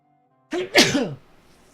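A single sharp, close sneeze rings out after a moment of near silence: a quick intake followed by a loud burst that fades quickly.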